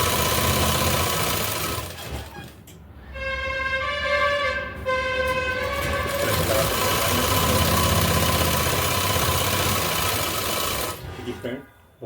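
An electric sewing machine stitching a suit runs in a steady, close whirring drone for most of the stretch, with a sustained tonal hum layered over its middle, then stops abruptly near the end.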